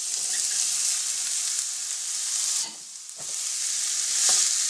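Onions and peppers sauté in olive oil in a heated pan for a vegan quiche, giving a close, bright, continuous sizzle that briefly dips as the vegetables are stirred, then swells again, with no talk.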